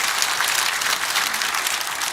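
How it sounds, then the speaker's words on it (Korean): A rally audience at a church unification gathering applauds loudly and steadily, a dense continuous wash of many hands clapping close by with no pauses. "이땐 박수 한번 쳐야 되는 거 아닙니까"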